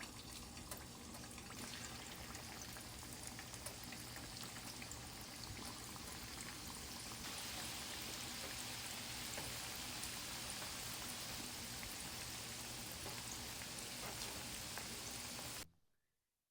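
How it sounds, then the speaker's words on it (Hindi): Chicken pakoras deep-frying in medium-hot oil over a medium flame, a dense continuous bubbling sizzle close up that swells midway and then cuts off abruptly. "मैंने अभी आधे पकौड़े डाले हैं। इसे हम मीडियम फ्लेम पे तलेंगे।"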